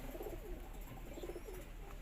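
Pigeons cooing softly inside a loft, a few low rolling coos in quick succession over a faint background hum.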